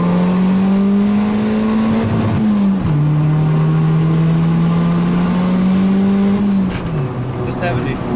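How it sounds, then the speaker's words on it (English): Nissan B13 Sentra engine pulling hard in second gear from 40, a loud close drone rising steadily in pitch, dipping briefly at a shift-like break near the middle and again near the end, with faint talk underneath. "second gear pull from 40"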